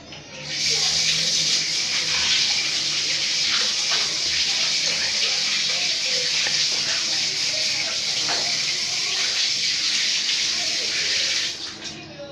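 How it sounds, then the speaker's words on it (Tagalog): Tap water runs steadily from a faucet during handwashing, a continuous close hiss and splash that holds at an even level before it cuts off at the end, with a voice faintly present. "After that, let's wash it with water."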